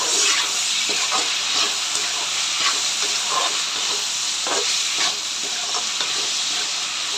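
Chopped tomatoes with salt and turmeric powder sauté in a pan for fish kulambu, sizzling and hissing steadily up close with soft intermittent stirring scrapes throughout.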